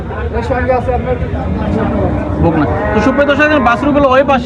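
Cattle at a traditional cattle market in Ishwardi, Pabna, with loud close lowing and mooing layered over busy crowd chatter and people talking throughout.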